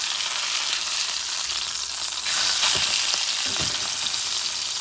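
A cod fillet fries in a hot pan right after being flipped, giving a steady, bright hiss that swells louder partway through, with a few soft scraping taps.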